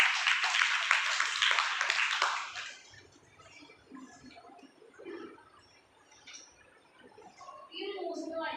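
Classroom applause during a value education lesson on justice, a burst of clapping for about three seconds that then stops, followed by quieter room noise and scattered speech.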